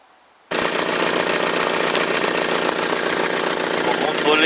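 Car engine idling while exhaust sealant paste dries, starting abruptly after a short quiet moment into a loud, steady, close idle with a rapid rhythmic knocking and a noisy exhaust leak hiss.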